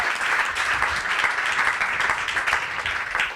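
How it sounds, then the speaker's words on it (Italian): An audience at a university talk applauds steadily, a dense, even wash of clapping heard from within the room and holding at a moderate level throughout. "he deserves an applause for that."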